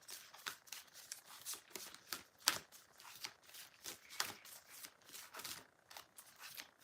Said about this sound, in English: You can see me shuffling the cards, can you see?